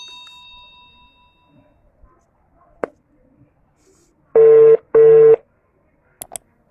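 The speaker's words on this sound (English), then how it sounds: "He's busy in the line." A telephone busy signal heard over a line: two loud, steady tone bursts in quick succession, preceded by a faint hum and a few clicks and followed by brief beeps.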